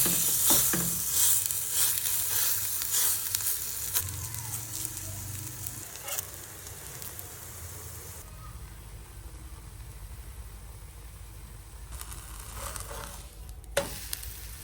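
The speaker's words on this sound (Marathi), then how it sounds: "छान असे भोपळ्याचे थालीपीठ खरपूस भाजून घ्यायचे।" A pumpkin thalipeeth flatbread roasts crisp on a pan, sizzling loudly at first and then settling into a quieter, steady frying hiss, close up, with a few faint clicks.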